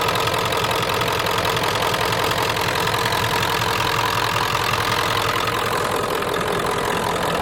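A Ford F-250 with a 7.3 IDI diesel idles steadily, its dense, clattering knock running evenly and close throughout with no voices.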